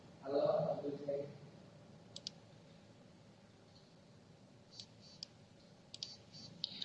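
Computer mouse clicks while using Jamboard, a few sharp, close single and double clicks spaced apart, following a brief burst of speech at the start.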